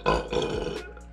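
A single close, gravelly burp rolls out loud at first and trails off into quiet within a second.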